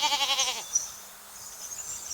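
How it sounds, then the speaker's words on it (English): Goat bleating in a wavering, quavering cry for about half a second, loud and close, followed by a quieter high-pitched hiss and faint background noise. "The goat wanted to play and gave Zippy a big friendly nudge."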